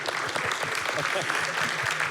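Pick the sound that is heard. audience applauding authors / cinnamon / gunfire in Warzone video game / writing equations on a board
audience applauding authors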